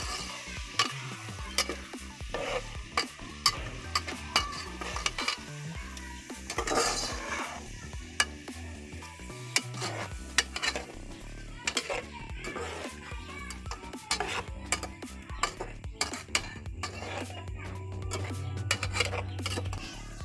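Tomatoes stirred into a potato, carrot and pea curry in a pan, busy clinking and scraping of a spoon against metal over a low sizzle, with a voice faintly in the background.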